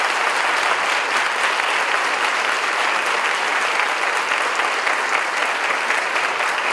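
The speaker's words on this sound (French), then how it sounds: "Saluons-les avec un grand applaudissement." A church congregation at a Bible study bursts into loud, sustained applause, steady dense clapping filling the room from start to finish with no talk over it.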